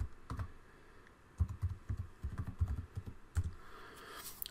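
Credentials are typed on a PC keyboard at a desk, heard as quick, irregular clusters of clicking keystrokes close by, moderately quiet, with short pauses between bursts and no talking.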